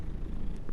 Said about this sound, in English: the cat does meow or purr through your controller